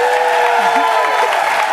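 Studio audience cheering and applauding during a fitness segment on a daytime health talk show, a steady loud wash of crowd noise throughout with a few whoops rising above it.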